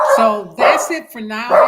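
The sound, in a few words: dogs barking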